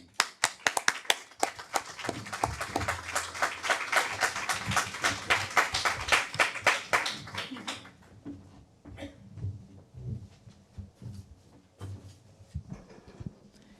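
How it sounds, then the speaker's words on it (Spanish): Scattered clapping from a lecture audience welcoming a doctor to speak on cancer metastasis; a few seconds of brisk, sharp claps that fade out, followed by sparse taps and faint room noise. "un aplauso para la doctora Inés Antón"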